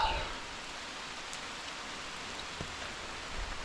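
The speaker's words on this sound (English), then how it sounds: "It's raining," Rain pattering steadily outdoors during a summer bike ride, a faint, even hiss of drops with no breaks, a couple of small knocks and no talking.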